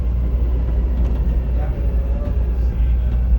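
CTA 'L' Purple Line Express train running in Chicago, a heavy low rumble of the railcar rolling along the track, steady and close, with no voices heard over it.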